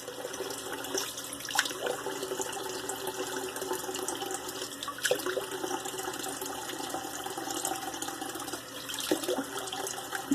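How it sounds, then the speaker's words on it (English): Tap water running steadily into a bathroom sink, a close, continuous splashing hiss with occasional small knocks. "I didn't get my water in my sink"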